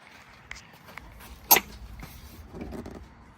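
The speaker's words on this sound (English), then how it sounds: "Pull straight out, you'll hear them set loose." A single sharp plastic pop as a grille clip pulls loose, amid quiet creaking and light handling noises, followed by softer rustling.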